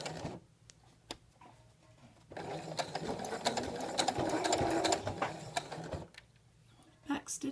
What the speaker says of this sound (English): I'm going to sew a few stitches with this and then tack it with the back stitch just to get it in place.